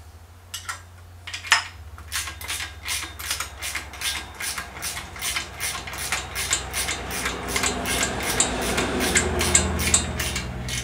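Front end of an Indian Trailblazer motorcycle being tightened with a hand tool: a run of quick, evenly spaced metallic clicks and rasping ratchet strokes close by, growing steadier and slightly louder, with a low background hum.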